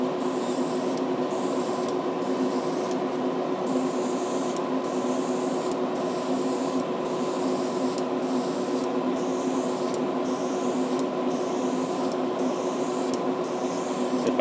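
Spray gun laying a light mist coat of paint onto a Shelby Mustang body, a steady continuous hiss broken by short regular gaps in the spray, close and loud with no talking.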